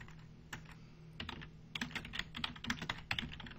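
Light, irregular clicking of computer keyboard keys as a command is typed, soft and close with short pauses between quick runs of keystrokes, no voices over it.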